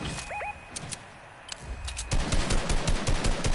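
Gunfire rings out in a shooter video game. A few isolated sharp shots come first, then rapid sustained bursts of automatic fire.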